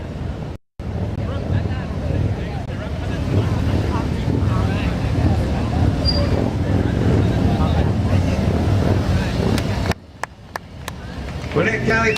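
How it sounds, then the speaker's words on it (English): Rodeo motorcycles lead off a Memorial Day parade in Dacula, a continuous engine rumble mixed with wind buffeting and crowd noise, with a brief dropout near the start and quieter clicks toward the end. "They're leading off our parade. I think they call them rodeo motorcycles."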